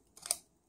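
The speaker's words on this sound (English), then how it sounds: "I'm going to cut a section out of this. I'm going to cut a wedge out." Scissors snip a wedge out of a paper cupcake liner, one quiet, short, crisp cut close by.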